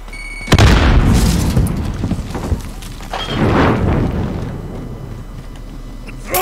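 A grenade blast in Call of Duty Modern Warfare, a sudden loud boom followed by a long rumbling roll and a second swelling burst of debris noise that fades out.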